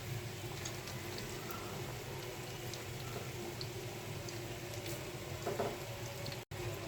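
Spinach and cabbage chop balls frying in oil, a steady dense sizzle with bubbling that holds at an even level throughout, ending in a very brief dropout near the end.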